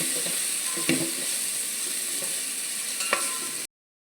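Garlic frying in hot oil for masala rice, a steady broadband sizzle with a couple of sharp spatula scrapes, close and continuous until it cuts off near the end.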